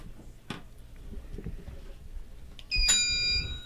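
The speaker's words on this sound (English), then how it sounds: "got in right under the buzzer" A sharp electronic quiz buzzer sounds once during a radio academic quiz competition, loud and steady for about a second, after a few soft knocks and background noise.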